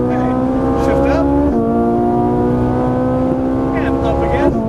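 A Ferrari 458 on a race track screams as it accelerates. Its pitch drops sharply at an upshift, then climbs steadily again, loud and close, with a voice speaking over the engine.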